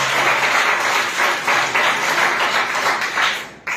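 A church congregation clapping in unison, a loud, dense wash of applause sustained for several seconds before abruptly dropping away.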